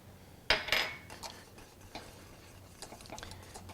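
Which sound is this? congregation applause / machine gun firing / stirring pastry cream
stirring pastry cream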